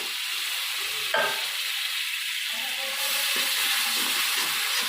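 Kashmiri chili powder spice paste, loosened with a little water, sizzles and crackles steadily in a pan, with a sharp burst of frying near the start and soft stirring scrapes throughout, alone without talk.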